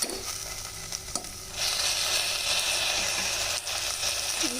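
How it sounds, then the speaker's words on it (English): Washed and drained rice is sautéed in caramelized, well-browned onions, giving a close, steady sizzle with scraping and stirring sounds that gets louder partway through, with no talk. "add the rice to saute it in this caramelized onions"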